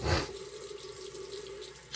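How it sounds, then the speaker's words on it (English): Hot water runs from a tap to warm a shaving soap lather, a faint, steady stream after a short splashy start. "I'm just heating up the water here because I would like to have some warm lather."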